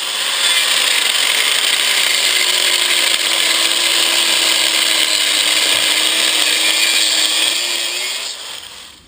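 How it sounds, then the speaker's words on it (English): A grinder strips coating off copper, a loud, continuous high-pitched whine with a slowly shifting tone, held steady for about eight seconds before fading at the end. "I think my best bet is to use the grinder"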